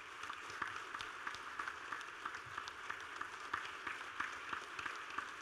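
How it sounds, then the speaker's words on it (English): A large gathering at a business partnership summit applauds: a steady, faint, distant-sounding spread of many claps that holds evenly for several seconds without rising or falling. "A resounding applause I request from all of you."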